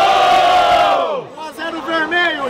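A crowd at a Brazilian street rap battle, a first-round match, gives a loud, close roar of cheering and shouting. It fades after about a second, and then scattered yells continue.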